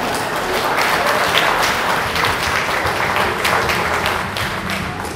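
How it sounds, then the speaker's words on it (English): Audience at a touring illusionist's magic show in Iowa breaks into loud, close applause, a thick burst of clapping that carries on throughout and eases slightly near the end. "give a round of applause."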